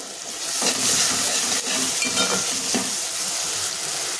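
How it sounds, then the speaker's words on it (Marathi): Ginger, garlic, chilli and coriander paste fries in a pan with tomato and onion for egg curry. A loud, continuous, hissing sizzle is broken by a few stirring scrapes. "टोमॅटो कांदा छान फ्राय झाले की त्याच्यामध्ये 1 चमचा आलं, लसूण, मिरची आणि कोथिंबीरची पेस्ट टाकून घ्यायची"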